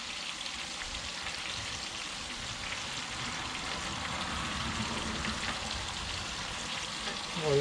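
Redfish pieces and sliced jalapenos fry in hot infused oil, a steady dense sizzle with crackling pops that holds level throughout and swells slightly near the end.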